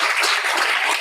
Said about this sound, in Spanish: otro aplauso si quieren